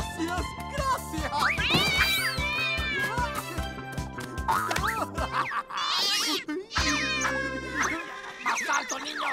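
A cartoon wild cat meows and yowls in a children's animated show, with loud, pitch-sliding cries over a busy music bed and excited character voices talking around it.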